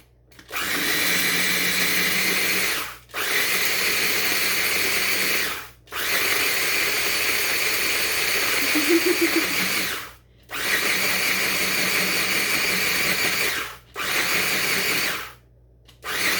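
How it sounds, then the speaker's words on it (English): Old-fashioned oats whirring loudly in a food processor as they are ground to powder for carrot cake cookies, in four steady bursts separated by brief pauses, with no talk. "we're going to grind this up into a fine powder"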